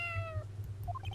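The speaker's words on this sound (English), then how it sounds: "Oh, it sounded like a cat." A single short, faint cat meow plays as a sound effect at the end of a transmission in the Phoenix Wright: Justice For All video game.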